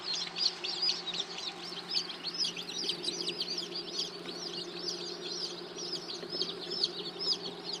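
Desi hens cluck softly and steadily while young chicks peep in a dense, continuous chorus, fairly faint, with no voices.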